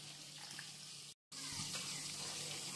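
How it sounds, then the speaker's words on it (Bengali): Warm water pours into a cooking pot in a steady close rush, briefly cut by a short gap before the flow resumes, with no voices. "এবারে আমি জল দিয়ে দিচ্ছি, পরিমাণ মতো জল দিয়ে দিলাম।"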